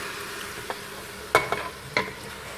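Sheep tripe and intestines sauté in a pan for Algerian bakbouka, a low steady sizzle broken by a few sharp scraping clicks from the stirring utensil.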